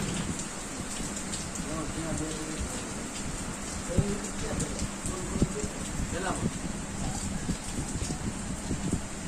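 Steady, dense rain falls during a thunderstorm in Botad district, Gujarat, a continuous hiss with a few sharper knocks. A couple of faint, brief rumbles may be thunder.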